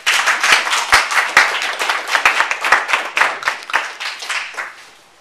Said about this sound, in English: Round of applause for Derrick.